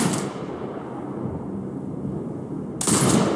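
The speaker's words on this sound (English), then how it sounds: "Exit binocular mode and command the turret to fire." A turret in Sniper Ghost Warrior Contracts II fires as one loud blast that trails off into a long low rumble, with a second sharp report near the end; no one talks.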